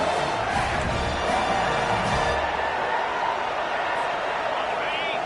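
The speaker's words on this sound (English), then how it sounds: "This crowd busting the decibel meter and trying to will a fourth down stop" A stadium crowd roars in an NCAA 25 college football video game, a dense, loud, continuous cheer that swells slightly and then holds steady, with no distinct voices.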